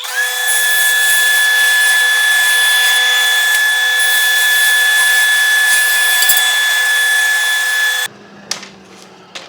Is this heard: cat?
no